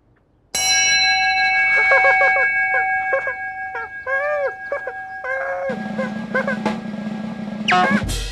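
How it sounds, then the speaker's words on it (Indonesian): A bright bell rings in a series of short clear tones, mixed with chirpy, warbling sounds and a brief rumble near the end, in a Teletubbies children's television episode. "Bunyikan lonceng."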